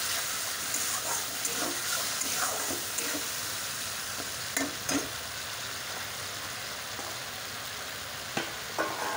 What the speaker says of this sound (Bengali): আর সর্ষেটা বেশি ভাজতে হয় না, তাই জন্য আমি বেশি ভাজবো না সর্ষেটা।